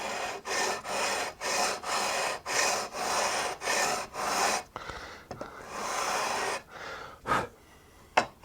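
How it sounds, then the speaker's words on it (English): Sandpaper rasps back and forth over the ebony-edged fret ends of a handbuilt guitar neck in about eight brisk, rhythmic strokes, close and loud, followed by a few scattered scrapes and rubs. "I keep sanding away the fret ends until I'm starting to see some ebony dust on my sandpaper."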